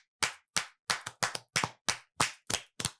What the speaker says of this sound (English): So, a round of applause for this sister, first of all.